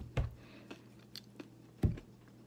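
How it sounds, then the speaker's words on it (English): Crunchy French toast topped with puffball mushroom being chewed, with two louder crunchy bites and a few softer chewing sounds between them, close up and quiet with no talking. "I'm just going to continue eating my crunchy French toast with a puffball."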